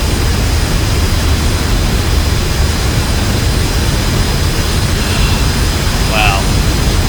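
The steady jet roar of an F-86 Sabre in flight in the DCS World simulator, a loud continuous rushing drone with no letup, and a voice talking over it.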